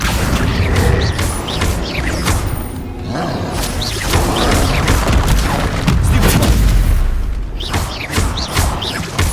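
Explosions from the Confringo blasting spell in Hogwarts Legacy come as a rapid series of loud booms and crashes with crackling debris, heavy and continuous across the stretch.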